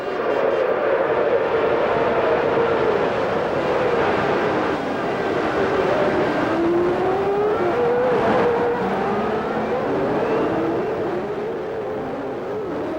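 Formula 1 cars at the start of a 1993 race, a loud continuous engine roar with shifting whining pitches as several cars accelerate together, steady and dense throughout.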